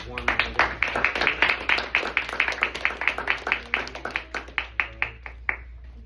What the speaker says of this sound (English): Everybody, give her a warm round of applause